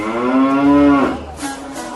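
A cow lows once in a long, loud, close moo, then a second softer moo follows, as a sound effect in a Portuguese audio Bible reading of cows walking the road to Beth-Shemesh.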